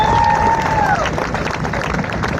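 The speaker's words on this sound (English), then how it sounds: "Let's give another round of applause to Congressman Cleaver" Audience applause and cheering for Congressman Cleaver at a Riverfront Extension opening event in Kansas City, a dense, steady crowd clapping with crowd noise throughout, joined early by a brief whistle-like tone that glides down and fades.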